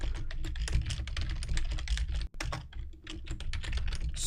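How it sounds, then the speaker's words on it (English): Rapid, steady clatter of a computer keyboard being typed on during a Heroes of the Storm league match, close and loud, with a brief pause midway before the keystrokes resume. "Sorry for the typing, folks, but I need to communicate with my teams."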